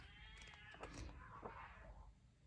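Neighbor's cats fighting, a drawn-out wavering yowl rising and falling for about two seconds, moderately loud, ending in a sharp sudden noise.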